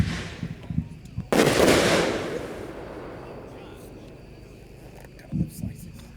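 Casabella Dominator firework cake, a 10-1 slice: one sharp launch and a loud, crackling burst, then a long fading hiss and a few softer pops. Voices are heard faintly in the background.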